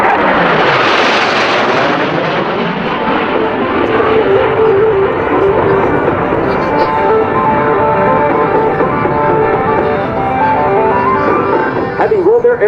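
Blue Angels jets at a 2015 US Navy air show, flying in formation at about 400 mph: a loud, sustained jet roar that swells and sweeps past, rising to a whining howl near the end.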